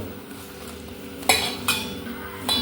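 Chicken pakora batter of rice flour and egg is stirred in a bowl, giving a soft continuous scraping with a few sharp utensil clinks against the dish. No one talks.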